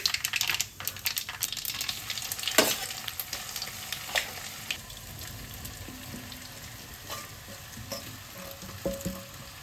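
Cumin and sesame seeds with mustard seeds sizzle in hot oil for a methi muthiya tempering, a dense crackling fry with scattered pops that settles into a softer, steady sizzle.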